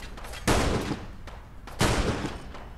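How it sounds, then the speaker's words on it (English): Two loud, close shots from an enemy weapon in the game Fallout London, each a sharp crack with a short decaying tail, spaced a little over a second apart, with no talking. "Oh, he is shooting at me now."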